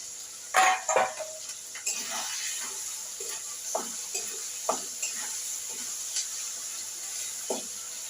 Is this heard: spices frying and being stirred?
yes